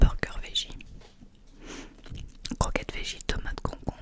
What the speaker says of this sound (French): Et si on goûtait ce burger?